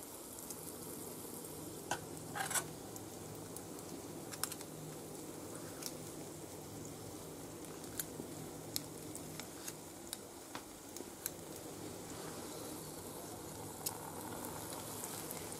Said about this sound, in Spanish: las bolas con dos cucharas y lo echamos en el aceite